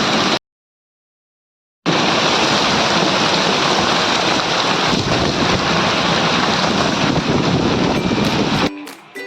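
A dense, loud roar of wind-driven rain buffets the microphone without letup, cut off briefly by a sudden gap of silence near the start.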